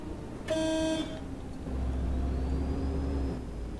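An OMSI 2 simulator bus fitted with the Morphe soundpack gives a brief tonal horn-like blast, then a steady low engine rumble with a faint rising whine, moderately loud and with no talking.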